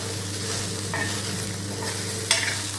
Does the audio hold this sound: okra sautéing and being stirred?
yes